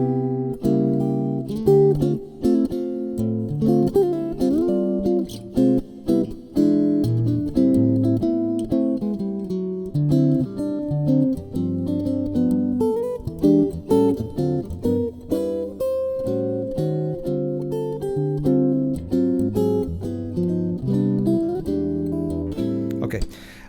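A jazz guitar plays a standard in a mainstream style, with steady chords and melody lines running continuously and clearly up close.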